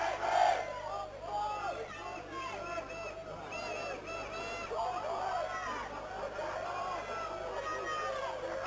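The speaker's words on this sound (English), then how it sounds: "The crowd certainly picking up the noise." Spectators at an Oxford v Cambridge rugby league varsity match in 2002 make a steady, fairly distant crowd roar that swells slightly as play nears the try line, with a commentator talking over it throughout.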